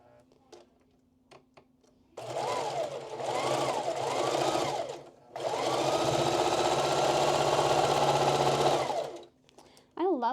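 A sewing machine stitches fabric in close, loud runs: a short rhythmic burst, a pause, then a longer steady whirring stretch before it stops, alone without talk.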